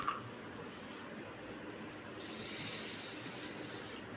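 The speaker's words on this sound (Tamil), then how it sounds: "நம்ம எடுத்து வச்சுக்க 1 கப் ஜவ்வரிசியை நல்லா கழுவி எடுத்துக்கிடலாம்." Sago pearls being rinsed in a bowl of water for a traditional sago ball recipe, a soft watery swishing and trickle that swells in the second half, quiet and close with no talking.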